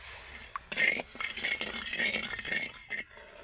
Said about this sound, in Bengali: এবার আমি এই জলের মধ্যে চিনিটাকে ভালো করে গলিয়ে নেব চিনি গোলা পর্যন্ত কিন্তু এইভাবে নেড়ে নেড়ে আমাকে অপেক্ষা করতে হবে